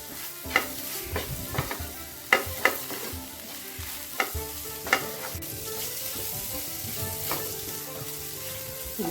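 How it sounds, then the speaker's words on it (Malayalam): Masala spice paste fries in a pan while a spoon stirs it, a continuous sizzle broken by sharp scraping knocks of the spoon against the pan, close and steady. "മസാലയൊക്കെ നല്ലതുപോലെ മൂത്ത് വന്നിട്ടുണ്ട്"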